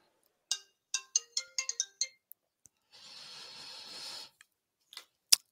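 A mobile phone ringtone plays a run of bright, evenly spaced electronic tones, then gives way to a burst of hissing noise and a few sharp clicks, with no talking.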